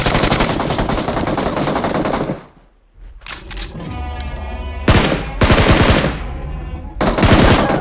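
Bursts of rapid automatic gunfire in the PUBG Mobile game's dinosaur mode, loud and close, broken by a brief quiet gap and a short ringing stretch before more volleys.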